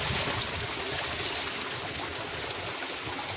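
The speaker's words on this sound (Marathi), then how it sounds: "आतमध्ये सुद्धा पाण्याचा झरा आहे त्याला लहान" A small spring of water flows steadily as it is cleared out in a rural spot where cows graze, making a constant close trickling wash with no pauses and no voices.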